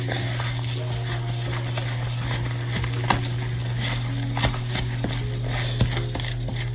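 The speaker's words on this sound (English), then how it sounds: "and then we're going to stir it up, mix it up" Oats being stirred into chocolate chip cookie dough in a bowl, with soft scraping and light clinks of a utensil against the bowl over a steady background hum.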